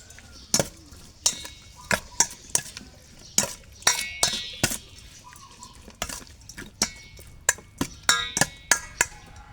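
Beef with salt stirred in a pot, a series of sharp utensil scrapes and clinks against the cookware, irregularly spaced about once or twice a second, close and fairly loud with faint wet sizzling between.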